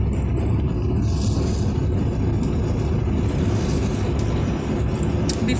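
A car driving along a road gives a steady, loud low rumble of engine and road noise with no pauses, and no one speaks over it.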